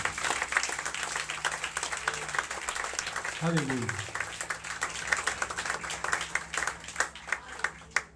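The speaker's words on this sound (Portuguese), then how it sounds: "Pode aplaudir o Senhor, queridos e queridas." A church congregation claps continuously with dense, steady applause during a worship service, while a voice speaks in Portuguese and briefly calls out over it.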